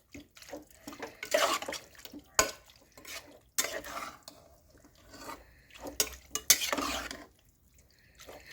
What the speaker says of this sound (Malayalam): ഇനി ഇത് നന്നായിട്ടൊന്ന് ഇളക്കി യോജിപ്പിച്ചെടുക്കണം